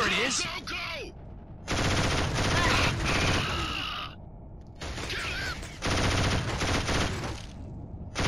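Machine gun fire in the Killzone HD video game on PS3, with loud sustained automatic bursts in several long stretches, broken by brief lulls, with a voice calling out over the shooting.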